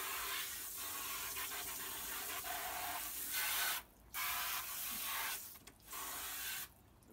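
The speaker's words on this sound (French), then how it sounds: "il va falloir que je les rince et après, je puisse frotter avec le savon" Steady rubbing and scrubbing with soap on an aircraft's lights during a wash, a continuous broadband hiss that drops out briefly several times, with no talking.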